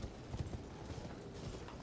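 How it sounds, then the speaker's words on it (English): Horse hooves clip-clopping in a fantasy video game as a mounted knight's cavalry rides nearby, a quiet, uneven patter of repeated hoof strikes beneath low game ambience. "Just a normal horse."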